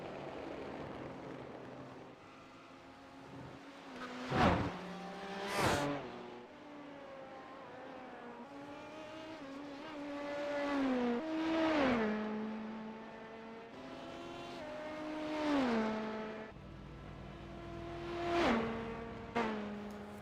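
Race car engines from the iRacing game at Sebring rev and shift repeatedly, with rising pitch sweeps, downshift drops and sharp passing bursts, loud and continuous throughout.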